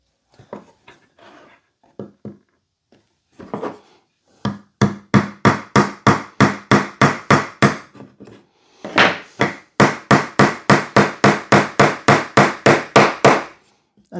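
Gimp pin nails hammered into a wooden national Hoffman beehive frame: a few scattered light taps, then two long runs of rapid, evenly spaced, sharp close-up hammer blows, about two per second.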